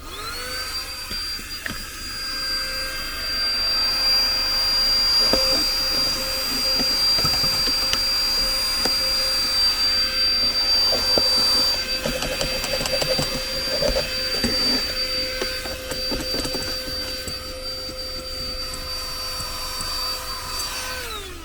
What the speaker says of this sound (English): the last thing we've got is this, which is the hairdryer / vacuum cleaner